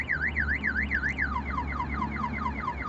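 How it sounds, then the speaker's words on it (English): A Chadwick car alarm going off on a stationary car: a loud, close electronic siren sweeping rapidly up and down, then switching to a slower warbling tone, continuous throughout with no talking. "Now it's going into the alarm mode."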